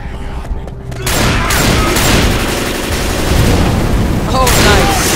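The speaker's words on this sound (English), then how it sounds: "Shoots really loudly." Heavy, loud gunfire fills a Left 4 Dead 2 match as a dense, sustained barrage of close shots and blasts after a brief quieter moment at the start.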